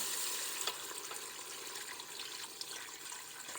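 Chicken broth pours into a deep soup pot, a quiet, continuous liquid rush with faint splashy flickers and no talk.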